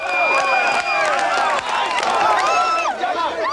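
A crowd on a set for a 1990s computer game gives an enthusiastic welcome to arriving heroes, with many overlapping voices whooping and shouting loudly and continuously.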